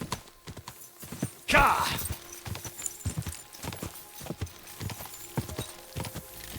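A horse in the video game Kingdom Come Deliverance 2 canters and gallops with steady, fairly loud hoofbeats, and a short loud whoosh or snort breaks in near the start.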